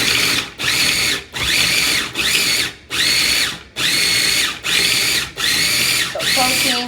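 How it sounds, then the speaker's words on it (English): A food processor grinds vegetables for a bolognese sauce in short, loud pulses, about eight bursts of whirring motor separated by brief pauses, close and alone. "And I'm gonna start by grinding."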